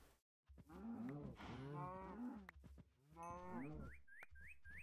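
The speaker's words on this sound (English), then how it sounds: "Oh, cows, come here. Come here, cows." Cows in a modded survival game let out several drawn-out moos, one after another, loud and near, along with a few brief high chirping sounds near the end and no talking.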